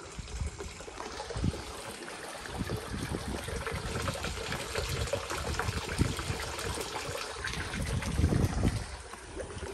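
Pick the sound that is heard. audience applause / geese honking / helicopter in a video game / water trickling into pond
water trickling into pond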